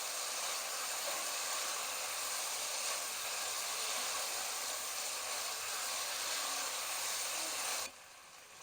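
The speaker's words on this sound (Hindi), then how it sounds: "चिकन को थोड़ा सा फ्राई करेंगे अब।" Chicken pieces for shashlik, already cooked soft over low heat, fry in a pan with a steady, loud sizzling hiss that continues without a break and then suddenly drops away near the end.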